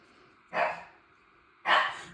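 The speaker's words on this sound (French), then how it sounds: "il aboie pour essayer de l'atteindre" A dog, Bob, barks twice at a cat named Lily perched up high, each sharp bark spaced about a second apart, close and loud in an otherwise quiet room.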